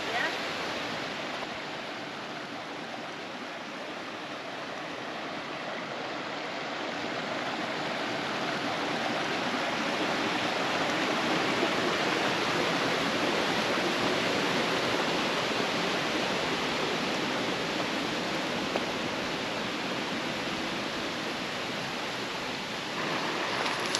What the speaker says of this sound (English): That's a cool little waterfall.